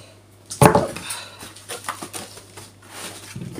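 Dishes, pots and cutlery clatter in a home kitchen as they are washed and put away, with a sharp loud clank near the start followed by lighter scattered clinks and taps close by.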